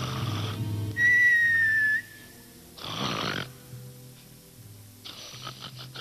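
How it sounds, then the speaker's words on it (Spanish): An elderly man snores loudly at night in a house, in a few drawn-out breaths, with a whistling tone riding on one snore, separated by quieter pauses. "solo se escuchan los ronquidos del abuelo"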